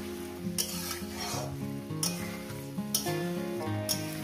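Tomato and green chilli sauté in a pan with ground spice paste, sizzling steadily up close while the spoon scrapes through in periodic strokes.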